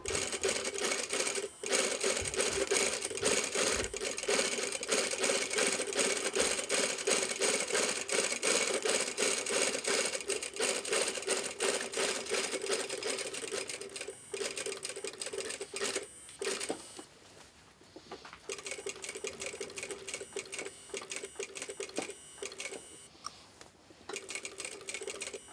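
A sewing machine edge-stitching a collar band chatters in a fast, steady rhythm for long stretches, briefly pausing and restarting near the end, close and clear.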